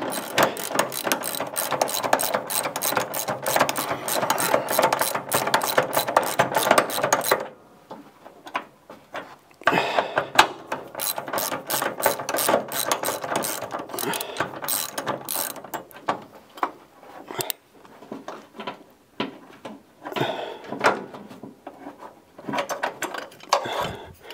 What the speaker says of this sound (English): And I'll get the wrench to do that.